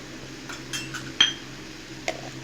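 A metal spoon clinks against a pot while turmeric goes into a sweet and sour mango pickle being stirred, producing a couple of short, bright clinks and soft scrapes, close and fairly quiet with no speech.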